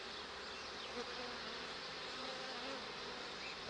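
Dense, steady buzzing of a honey bee swarm at an opened hive, continuous and fairly close throughout, with no talk.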